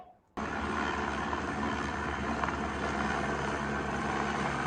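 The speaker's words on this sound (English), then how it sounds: "But Florida State head coach, Coach Novell, used a helicopter." A loud, steady helicopter rotor and engine drone starts abruptly after a brief quiet moment and continues unbroken, close and constant throughout.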